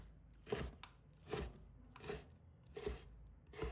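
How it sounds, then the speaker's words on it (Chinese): A knife cutting pickled Chinese cabbage into large pieces on a board, five evenly spaced crunchy chops with soft scraping between, close but quiet, with no voices. "全部切掉后，把它切成大块，切大一点"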